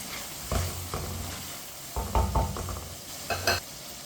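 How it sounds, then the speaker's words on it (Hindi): Ridge gourd (tori) fries in a pan on a medium-high flame while a spoon stirs it, giving a soft sizzle broken by several close scraping, clinking stir strokes in uneven bursts, with no voices. "ऐसे ही चम्मच लाते हुए भुने।"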